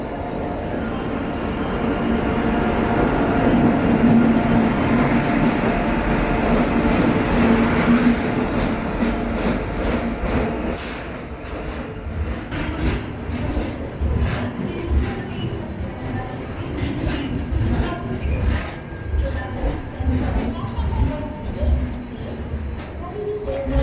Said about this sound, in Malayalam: അങ്ങനെ കന്യാകുമാരി പൂനെ എക്സ്പ്രസ് ഇറങ്ങിപ്പോയി.